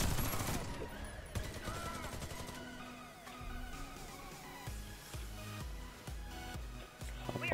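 In the video game Warface, gunfire crackles in rapid bursts and scattered single shots during an online match, moderately loud with game sounds underneath.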